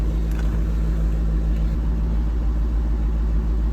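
A Jaguar F-Type R sits idling as it warms up, with a steady, deep, low rumble that stays even and close throughout.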